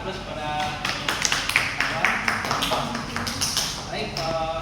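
A classroom group claps in applause, a loose patter of hand claps running steadily at moderate volume under a speaking voice.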